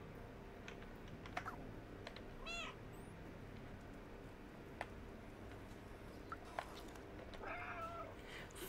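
A cat gives short, faint meows at a few moments amid steady keyboard typing and clicking, all quiet and close, with no talking.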